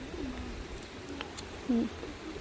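Pigeons coo softly at a distance, a few low throaty calls with one clearer coo near the end, over a faint background hiss and no speech.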